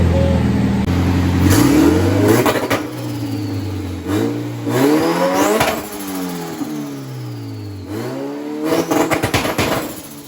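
A turbocharged Honda B18 engine on a dyno, running near and loud through repeated revving pulls that climb in pitch, drop off and climb again, with a whine over the engine note, over about ten seconds.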